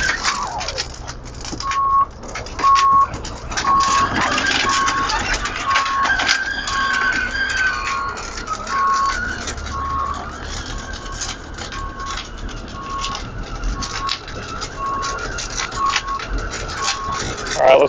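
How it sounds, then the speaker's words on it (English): A Fisher-Price Barbie Camper toy vehicle reversing, giving off a steady run of evenly spaced electronic beeps over a constant motor hum and rattle, with no voices. "we're gonna throw it in reverse and back it up and try not to scrape the wall"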